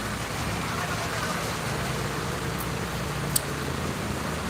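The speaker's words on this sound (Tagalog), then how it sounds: "inabot na tayo ng konting pagulan sa Gumacan, then Lopez, Quezon" Light rain falls steadily in Gumaca, Quezon, a soft, even hiss of drops that runs unbroken through the whole stretch, with one faint click partway through.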